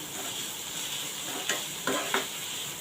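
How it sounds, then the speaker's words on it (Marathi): Onion and tomato fry in a pan with a steady, close sizzle, broken by a few short scraping stirs near the end. "टॉमॅटो आपण चांगला भाजून घेऊया कांदा आणि टॉमॅटो"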